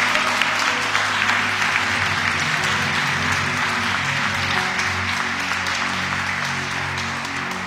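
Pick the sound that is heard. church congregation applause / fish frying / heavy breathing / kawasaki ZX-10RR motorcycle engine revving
church congregation applause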